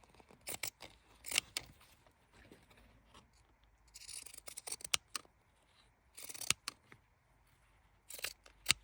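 Scissors snip through a corner while a handmade journal is being bound, giving a run of sharp, close cutting bursts with short pauses between them, recorded quietly with no talking.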